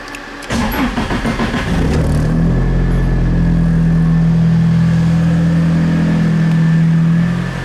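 A car engine cranks and catches with a sharp burst, then revs up and holds a loud, steady drone close by before easing off at the very end.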